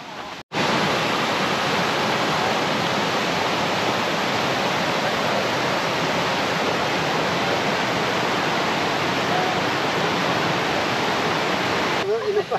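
Small stream flowing under a little footbridge by a pebbly bank, a loud, steady close rush of water continuing unbroken for the whole stretch.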